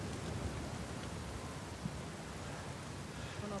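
Heavy rain pours steadily in a stormy scene from the video game Uncharted 4, a dense constant hiss with low rumbling thunder beneath it, loud and continuous throughout.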